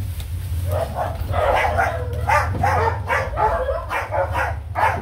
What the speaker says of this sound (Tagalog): Maraming aso kasi dito eh.